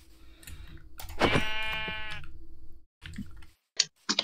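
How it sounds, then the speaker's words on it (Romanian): Sheep bleating in the Minecraft video game: one loud, drawn-out bleat with a clear harmonic tone, followed by fainter clicks and short game sounds, heard alone with no talk. "Hai că am găsit oaie."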